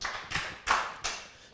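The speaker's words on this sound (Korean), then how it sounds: "박수 3번 시작." A church congregation claps three times in unison, three distinct sharp group claps in an even rhythm, clear and fairly close.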